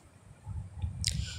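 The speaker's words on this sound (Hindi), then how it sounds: "साथ ही साथ हमने इस पैक को मैश करते जाना है ताकि इसकी जो स्मूथनेस है वो बन जाए।" Strained curd for a homemade hair mask is mashed in a bowl, giving soft, faint wet squishing and low thuds close by, ending in a brief brighter squelch.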